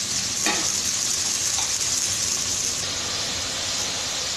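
Onion fries in oil in a pan for a cluster beans and tomato curry, a continuous close hissing sizzle with a brief stirring clatter near the start, with no talking.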